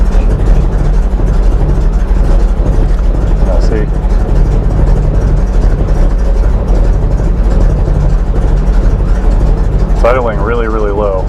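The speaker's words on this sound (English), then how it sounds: "Idling really, really low." A Mercedes 450SL engine idles very low with a steady, heavy low rumble up close, while a voice talks over it throughout.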